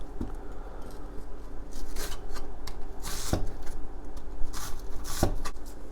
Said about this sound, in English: Onion is next. Okay, so I'm just gonna go this way and create slices.